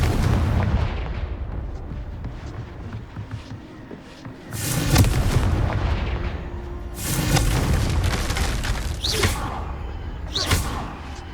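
Confringo fire spells from the video game Hogwarts Legacy go off in loud booming bursts, a roaring blast around five seconds and another near seven, followed by smaller thuds, with no talking.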